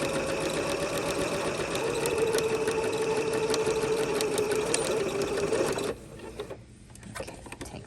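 Sewing machine stitching a French seam, a steady fast mechanical whirr with rhythmic needle clatter running close for about six seconds, then stopping abruptly into quiet handling noises.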